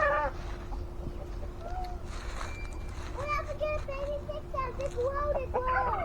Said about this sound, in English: we have a chicken that went missing named Wednesday.